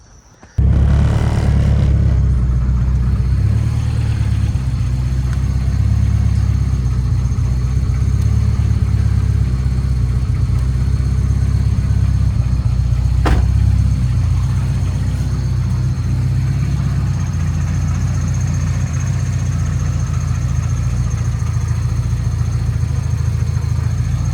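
A Honda Civic EJ1 engine runs steadily while the car drives, with a loud, continuous low rumble filling the whole stretch and no talking over it.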